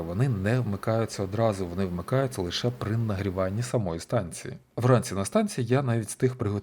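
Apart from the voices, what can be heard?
No everyday noise stands out behind the speech.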